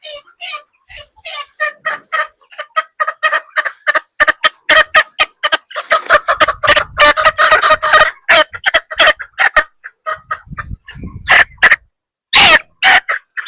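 Chickens in a crowded chicken house: a loud, near, nearly continuous chorus of clucks, squawks and gobble-like calls from many birds, with a sharp burst of cackling near the end.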